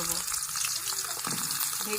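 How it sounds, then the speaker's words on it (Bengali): Eggplant pieces frying in oil in a wok give a steady, close hiss of sizzling with light crackle throughout, a voice faintly present under it. "প্রথমে বেগুনগুলো"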